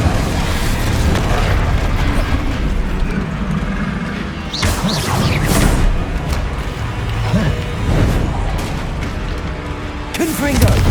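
Spell-casting blasts from Hogwarts Legacy, a fire spell erupting in bursty whooshing booms around the middle and end, layered over dense game music and effects with a voice calling out spells.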